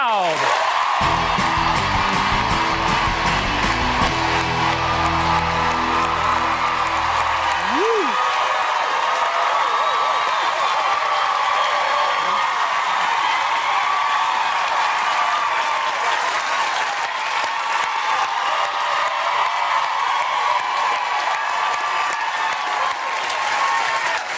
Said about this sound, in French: applaudissez-les fort